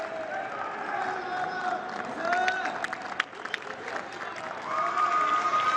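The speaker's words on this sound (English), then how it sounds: "both teams are clapping" Crowd noise at a men's Kho Kho World Cup 2025 match between South Korea and the United States, with both teams clapping amid steady cheering and babble, swelling louder near the end.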